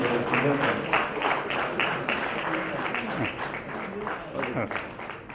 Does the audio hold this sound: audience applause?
yes